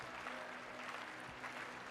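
A stadium crowd claps rhythmically at an athletics triple jump during the Balkan Athletics Championships in Volos, Greece, a fairly distant, steady wash of applause with no commentary over it.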